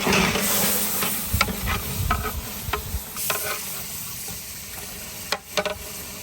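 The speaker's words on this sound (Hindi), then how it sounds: "अभी हम इसमें 8 किलो गोश्त डालेंगे और गोश्त को खूब अच्छी तरह से पका लेंगे" Meat with yogurt cooking in a large biryani pot, 8 kg of meat, village-style deggi biryani: a steady close sizzle and hiss with scattered stirring scrapes and clinks throughout.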